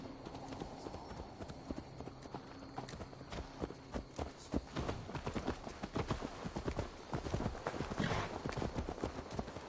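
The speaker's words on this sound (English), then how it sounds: "Let's return the horse." Horse hooves clip-clopping in Assassin's Creed Valhalla, a steady run of close, distinct hoof strikes on hard ground with faint voices in the background.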